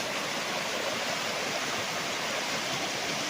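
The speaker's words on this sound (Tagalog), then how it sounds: "videohan ko lang ulit yung ilog ha, kasi napakaganda talaga niya oh" A river on farm property in Majayjay, Laguna rushes in a steady, loud, unbroken wash of water noise, close by with no voices.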